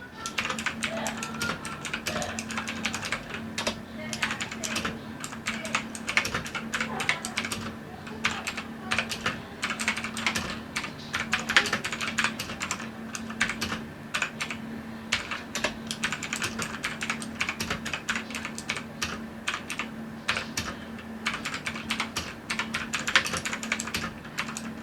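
Fast, steady typing on a Cooler Master CK350 mechanical keyboard with tactile Outemu blue switches, a dense run of crisp clicky keystrokes at close range with no talking.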